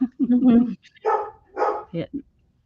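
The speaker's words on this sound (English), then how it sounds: "I think I'm getting a delivery. That's why he's barking" A dog barks a few times indoors at a delivery arriving, the short loud barks close by and interleaved with a person speaking.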